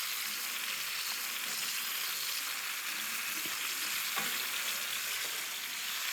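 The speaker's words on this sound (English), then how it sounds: "I'm gonna caramelize the tomato paste." Tomato paste caramelizing in olive oil in a pan, a steady, even, close sizzle with soft crackle and a few faint stirring taps, no voices.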